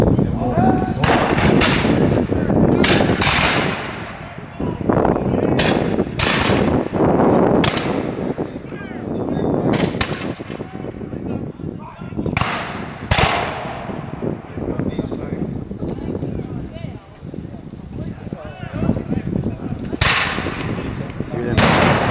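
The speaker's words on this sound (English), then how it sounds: "artillery just opened fire from the flank, which can be very dangerous." Artillery fires in a War of 1812 film battle, loud booming blasts repeating irregularly every second or two with rumbling echoes, mixed with smaller gunshots and a voice talking over the barrage.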